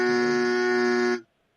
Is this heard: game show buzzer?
yes